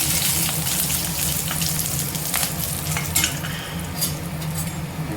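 Cashews and curry leaves fry in hot oil, giving a loud, continuous sizzle with occasional stirring scrapes throughout.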